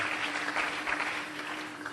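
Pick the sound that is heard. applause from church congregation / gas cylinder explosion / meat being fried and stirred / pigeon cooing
applause from church congregation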